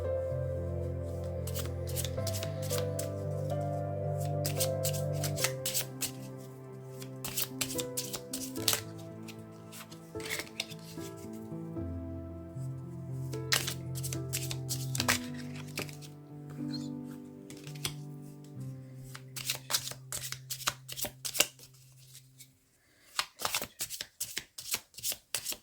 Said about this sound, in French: On reprend les cartes, on remélange et on repose la question.